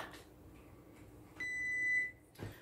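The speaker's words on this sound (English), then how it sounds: "the buzzer has gone off on my cauliflower au gratin" An electronic oven timer sounds a steady high-pitched beep for about half a second, faint over quiet room noise, with no one speaking.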